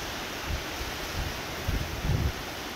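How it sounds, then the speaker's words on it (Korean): Strong gusting wind roars across a mountain summit, a steady broadband rush with low buffeting surges that swell near 1.7 and again around 2.1 seconds, loud and close against the microphone with no voices. "다시 한번 돌풍이 부는데"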